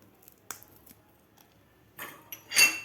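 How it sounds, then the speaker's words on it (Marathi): Garlic and green chilli are pounded in a metal mortar and pestle, giving a few sparse clinks and knocks followed by louder ringing metallic strikes near the end. "आपण लसूण आणि मिरची या खलबत्त्यात थोडीशी जाडसर कुटून घेऊया"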